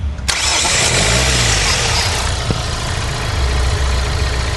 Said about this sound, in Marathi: हा मॅप सेन्सर सॉकेट काढलं, गाडी कशी स्टार्ट होते चेक करा